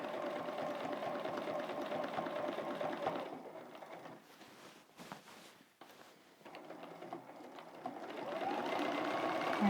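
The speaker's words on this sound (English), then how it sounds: "So careful travel stitching here." A sewing machine runs nearby while travel stitching a quilt: a steady, loud buzz of fast stitches, then a pause filled with faint handling and clicks, then the whirring picks up again and grows louder.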